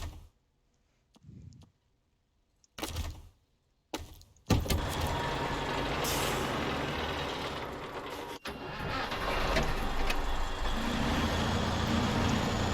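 A truck engine in the video game SnowRunner, a few short bursts over near silence before the diesel catches and settles into a steady loud idle and rumble, with a brief sharp cutout partway through.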